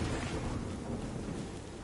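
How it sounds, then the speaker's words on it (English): Dense rain pattering with a low thunder rumble in the video game Returnal, a loud continuous storm wash filling the short stretch, no talk. "I'm feeling every single raindrop."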